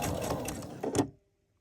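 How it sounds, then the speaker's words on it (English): A sewing machine stitches pillow fabric for a home-decor envelope closure in a short, quiet, whirring run of needle strokes that slows and stops after about a second. "I'm going to stitch just a little bit."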